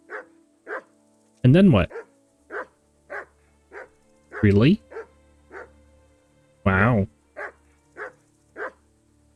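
A dog barks repeatedly in the video game Kingdom Come: Deliverance, with a series of short, evenly spaced barks and a few louder, drawn-out yelps, heard close alongside a man's speech.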